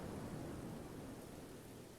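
Steady rain in the video game Book of Hours, a dense, even hiss with a low rumble beneath it, faint and continuous, with no voices.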